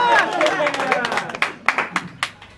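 Crowd at a rap battle breaks into scattered clapping and applause, sharp claps rising near the end after a stretch of loud voices.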